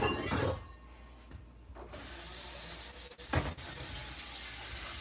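Tap water runs into a bowl in a kitchen, a steady close hiss that holds for several seconds, broken briefly by a quieter gap and a couple of knocks.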